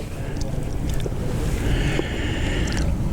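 A UV-9G GMRS handheld radio bobs and splashes in a stream, with small intermittent water slaps and light sloshing over steady wind noise outdoors.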